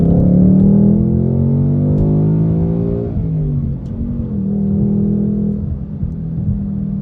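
A 2023 Ford Mustang GT Premium engine roars loud and close during a pull, its pitch climbing steadily, dipping briefly at a shift, then holding a strong drone.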